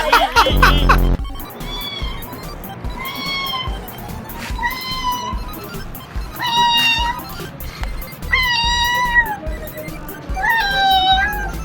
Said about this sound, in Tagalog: Tunog pusa nga.